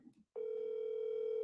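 A phone call rings out on speakerphone after a short, muffled bit of noise: one steady, unbroken electronic tone that holds clearly to the end.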